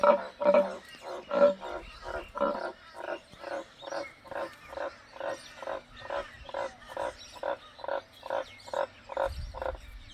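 Green tree frogs in Australia croak in a steady rhythmic series of about twenty loud, close calls, with no talking and a faint low rumble near the end.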